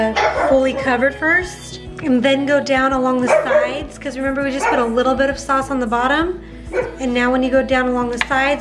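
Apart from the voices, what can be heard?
dog barking when the Ring doorbell goes off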